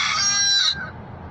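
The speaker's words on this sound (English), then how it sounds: "The rooster crows." A rooster-crow alarm tone sounds once, loud and close, a bright drawn-out call that breaks off abruptly, leaving faint low background noise.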